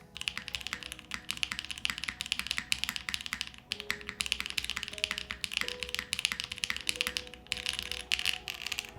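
Fast, continuous typing on a Vanguard65 mechanical keyboard fitted with Doom linear switches, a dense stream of crisp, deep clacks with occasional heavier spacebar thocks, close-up and steady over a faint tonal hum.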